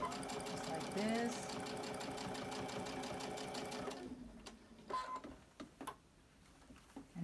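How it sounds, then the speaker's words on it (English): A sewing machine runs steadily for about four seconds while stitching around the curve of a fabric bowl cozy, then stops, leaving a few brief clicks and handling sounds. "we're going to be turning around our curve again"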